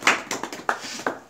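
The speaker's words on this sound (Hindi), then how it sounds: "और उनके लिए जोरदार तालियां" A short burst of applause for a company's managing director, a handful of sharp, separate hand claps in quick succession, close and fairly loud.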